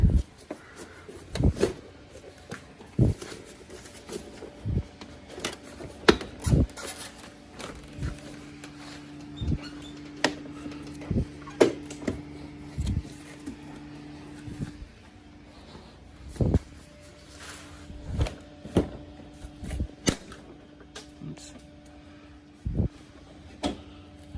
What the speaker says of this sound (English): Okay, so now I'm going to attempt to pull it off. A couple clips here.